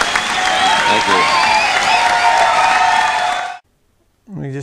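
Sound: audience applauding and cheering in a recording

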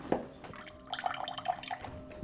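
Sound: weak trickle of water from kitchen cold tap

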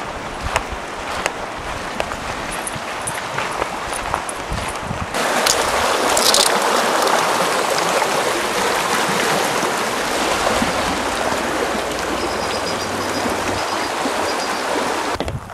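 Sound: waterfall

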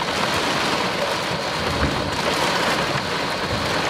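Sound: thunder from a lightning bolt during severe storm

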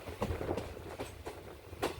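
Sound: Kollam–Alappuzha passenger train running

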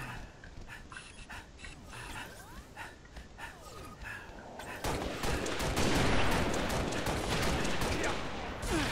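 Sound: sniper rifle gunfire in a video game

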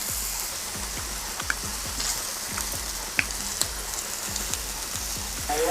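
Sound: pork liver sizzling on a Thai grill pan

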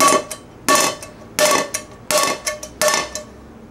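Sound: hammer striking Tefal frying pan in durability test

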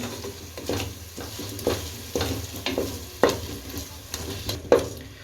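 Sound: sautéing and stirring masala with curd, lemon juice and turmeric

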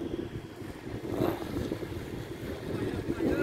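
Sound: strong wind outdoors

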